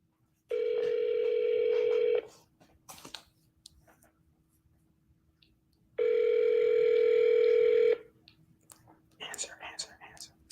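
A phone call placed to a seller, with two long electronic ringback tones separated by a pause, plus soft clicks and handling noises between the rings.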